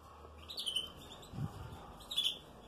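Hand-fed baby birds give a few faint, high chirps in two short bursts, with a soft low thump between them and no voices.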